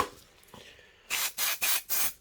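Four short, evenly spaced spray bursts hiss loudly onto a resin mould after a quieter stretch of faint rubbing.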